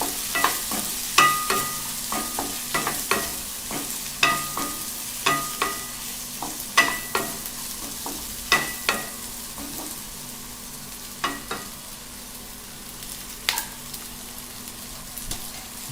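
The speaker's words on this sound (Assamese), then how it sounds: "নিমখ আৰু হালধি দিয়াৰ পিছত ভালকৈ লৰাই দিম" French beans and potatoes with salt and turmeric are stirred in a pan, a spoon scraping out a series of sharp, irregular clicks and scrapes over a faint, steady sizzle, dense at first and thinning toward the end.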